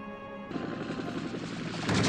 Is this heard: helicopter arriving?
yes